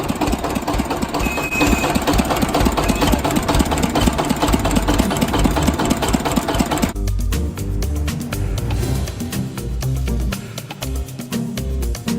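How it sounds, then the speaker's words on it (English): The motor of a block printing machine runs loud and close, a continuous hard-working mechanical chug and knock that keeps going and changes character partway through, with no talking. "This machine works really freaking hard. Can you hear that motor?"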